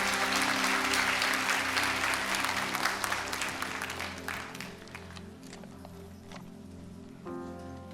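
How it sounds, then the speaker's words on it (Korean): A church congregation claps to welcome a pastor at a Sunday service in Irvine. The applause starts loud and dense, thins out gradually, and fades away toward the end. "우리 박수로 환영하겠습니다"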